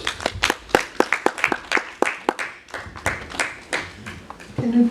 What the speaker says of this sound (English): Can you please give a round of applause today?